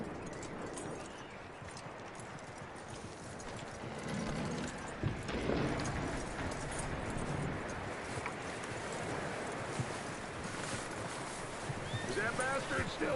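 Horse hooves clip-clop in the video game Red Dead Redemption 2, a steady moderate trot running under ambient game sound and music, with a brief neigh near the end.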